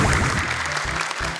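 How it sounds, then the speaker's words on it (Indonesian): Studio audience applause for two young contestants, Hasbi and Nuno, on the Indonesian Quran memorization show Hafiz Indonesia 2019, steady dense clapping throughout with a low musical tone underneath. "Boleh tepuk tangan untuk Hasbi dan Nuno."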